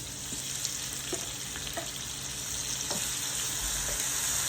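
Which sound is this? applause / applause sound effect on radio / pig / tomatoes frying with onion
tomatoes frying with onion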